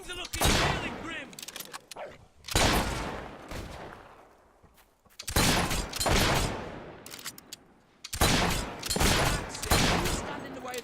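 Gunfire in the video game Fable III, coming as four loud rapid volleys of shots separated by short quieter gaps.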